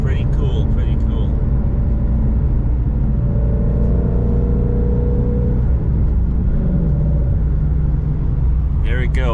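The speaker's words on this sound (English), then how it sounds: "Every time you go in 6th gear, it shuts the valve for the exhaust off." Ford Mustang GT350 cruising in sixth gear on a bumpy road near flooded salt flats, exhaust valve closed: a steady low engine and road drone fills the cabin throughout, with a faint whir riding above it and no sharp revving.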